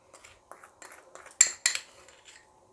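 A spoon beats sweet vermicelli cake batter with sugar paste in a bowl, giving a run of light, irregular clinks and scrapes against the bowl, two sharper knocks standing out midway, with no talk over them.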